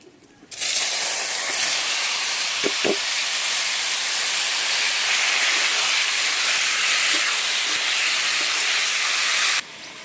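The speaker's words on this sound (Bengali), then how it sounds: "ওই তেলে দেবো তেজপাতা আর দেবো জিরে এবারে সেদ্ধ করে জল ফেলানো কচু শাকগুলো দিয়ে দেবো" Bay leaf, cumin and boiled, drained taro greens drop into hot oil and set off a loud, steady hiss. The sizzle holds at one level for about nine seconds, with a couple of faint clinks, then cuts off.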